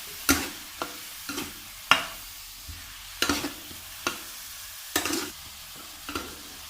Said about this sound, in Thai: ใส่ ที่ปรุงลงไปครับ มีแครอท ก็ ใบมะกรูดฉีดแล้วก็ พริกแดงครับ